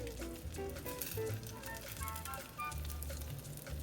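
Chicken tortitas, little spooned cakes of leftover chicken, frying in a pan with a steady close sizzle and crackle, with some faint talk underneath.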